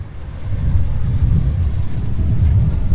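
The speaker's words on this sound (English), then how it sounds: "I'll wait for this truck to go through" A truck rolls through on a Washington, D.C. street, its steady low engine rumble and road noise filling the scene loudly and continuously as it passes close by.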